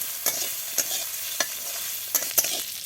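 Fried duck eggs being stirred in spice paste with oil, salt and turmeric in a pan: a steady close sizzle broken by five or six sharp scraping stirs at irregular intervals, with no talking.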